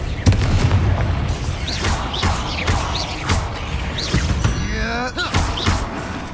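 In the Hogwarts Legacy video game, the Confringo spell explodes with deep booming thuds over a dense rumbling battle, with whooshing spell effects and a rising magical sweep near the end.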